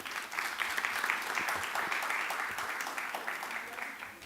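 Dense, steady applause from a crowd at a youth council political debate in Anguilla, filling the room with continuous clapping that holds at an even level and eases slightly toward the end.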